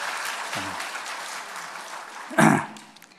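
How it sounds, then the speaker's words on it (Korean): Clapping from a church congregation welcoming a missionary at a Sunday worship service, a diffuse patter of hands with a brief louder burst near the end, and a voice heard faintly. "우리 한번 힘차게 한번 박수로 환영하겠습니다."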